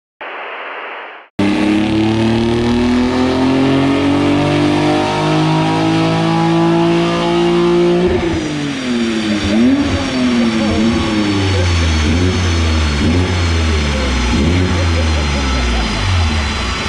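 A BMW G80 M3 engine on a dyno revs loud and close, climbing steadily in a long pull, then shifting and surging through further rising pulls after a brief quiet opening.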